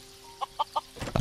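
Minecraft chicken clucks in three short, evenly spaced bursts, fairly close and clear, followed by a louder rustling thud at the end, with no speech.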